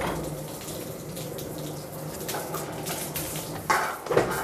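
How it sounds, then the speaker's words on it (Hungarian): Water running from a tap while coarse sharpening stones are worked, a steady hiss of flow with a few louder splashes and knocks toward the end. "Megengedem a vizet, fölemelem."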